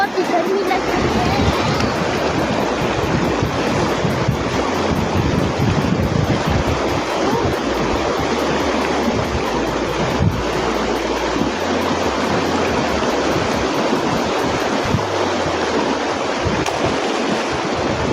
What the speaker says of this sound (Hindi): मैं ऐसे नाले में अब जाऊंगा